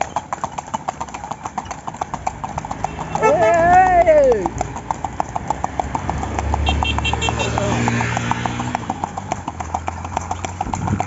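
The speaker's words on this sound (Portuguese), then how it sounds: "Eu andando com essa charrete, com esse cavalo aqui" Horse hooves clip-clop steadily on asphalt as the horse pulls a cart on a weekend ride, a regular close rhythm running throughout, with a person's voice rising briefly partway through.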